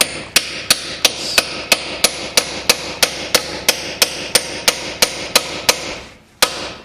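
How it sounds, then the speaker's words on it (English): A hammer drives a socket onto a rounded-off bolt on a cheap junker car being stripped for racing: about seventeen evenly spaced, sharp metallic blows, a brief pause, then one final strike. "So we're going with the smash socket on method."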